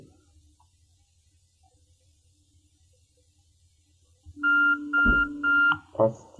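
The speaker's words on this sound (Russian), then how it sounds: "Запрозвенел будильник." An alarm clock beeps in a burst of repeated electronic tones, loud and near, breaking in after several seconds of near silence.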